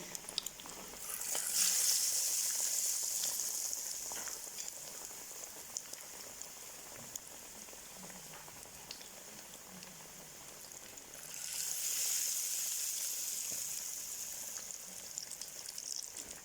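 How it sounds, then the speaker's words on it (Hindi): Potato-chicken cutlets coated in besan batter sizzle steadily in hot oil, with a bright, hissing fry that swells loud at the start and again later before settling back down. "our oil has heated and now I'm going to add the cutlets coated with the besan material"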